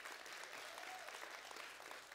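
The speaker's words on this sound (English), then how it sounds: "Can we give a big round of applause to her?" Church congregation applauding at a Sunday service after a call to honor a woman, heard as a faint, distant, steady wash of clapping throughout.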